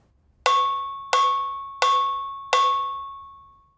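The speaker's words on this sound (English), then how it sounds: "It's usually played with a drumstick or a mallet and produces a sharp metallic sound." Cowbell struck four times with a drumstick or mallet, evenly spaced sharp metallic clanks that ring briefly and decay, close and clear with no other sound.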